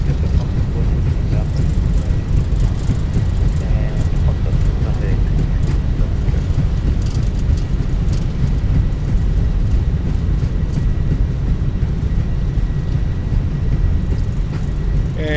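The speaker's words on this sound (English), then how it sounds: "reversers are out, decelerating." Steady, loud roar of an Airbus A320's thrust reversers during landing deceleration in Microsoft Flight Simulator 2024, a continuous low rumble that holds evenly throughout with no talk.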